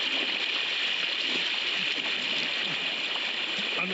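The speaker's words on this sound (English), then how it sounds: "Okay, so now we're floating down the river." A river flows and splashes during a float trip, a steady close hiss of rushing water with small gurgles over rocks.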